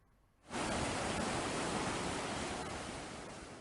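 A steady roar of surf rises suddenly and holds, broad and rushing, like ocean waves breaking continuously nearby.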